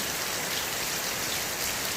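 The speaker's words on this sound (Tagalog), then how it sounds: "Lakas ng ulan, guys. Kagabi pa po, umuulan." Heavy rain pours steadily in San Fernando City, La Union, a dense continuous hiss of drops with no pauses or other sounds.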